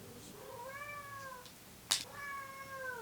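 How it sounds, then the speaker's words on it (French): A domestic cat meows twice indoors, two drawn-out, gliding calls separated by a short sharp knock, fairly close and clear over a quiet room background. "mon chat va bientôt miauler"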